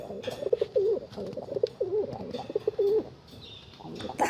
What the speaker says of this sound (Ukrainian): дійсно, це голуб